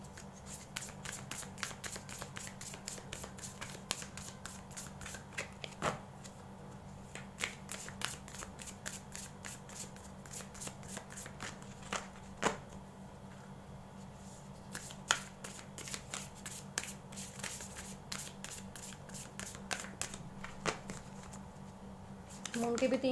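Tarot cards shuffled by hand in a long run of quick, crisp riffling flicks, close and fairly quiet, while a person talks softly.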